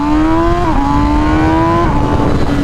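A 2021 MV Agusta Rush with a BT Moto ECU flash tune screams under hard acceleration, a loud, close, high-revving engine note that rises steadily and dips briefly at each quick gear change.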